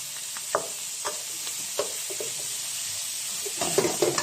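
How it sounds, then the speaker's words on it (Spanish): Chili peppers sautéing in a pan give off a steady, soft sizzle, broken by a few sharp scrapes as they are stirred, close by and without talk. "Miren, sofriendo acá, bien sofrito, ¿no?"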